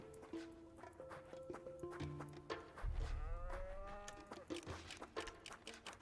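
A cow in the video game Zoria: Age of Shattering lets out a long, low moo midway through, amid light game ambience and a few soft clip-clop-like steps.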